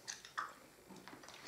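Close, quiet crunching and chewing of a hard filled candy with a soft melting centre, several bites in quick succession with no talking.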